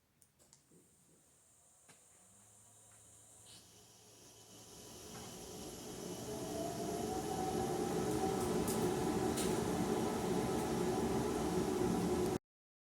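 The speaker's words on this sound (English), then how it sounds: "Okay, we're here at the shaper. I've got a regular jointing bit set up in the machine." Woodworking shaper fitted with a straight jointing bit spinning up, a hiss and whine that builds steadily to a loud, constant roar before cutting off.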